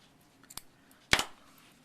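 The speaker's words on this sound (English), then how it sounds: "we go ahead and we cut the yarn" Scissors snip through crochet yarn while finishing a trim, with a faint small click and then one crisp, close cut, otherwise quiet.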